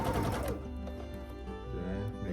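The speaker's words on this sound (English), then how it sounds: "let's go to the sewing machine and sew this bit down" A sewing machine runs steadily as it stitches quilt block pieces together with a quarter-inch seam, a close, continuous mechanical whir with faint rhythmic ticking and no voices.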